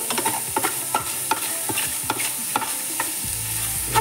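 Chicken fries in its own fat in a pan for a low-carb dish, a steady close sizzle broken by repeated scraping stirs and clinks of a utensil, with no one talking.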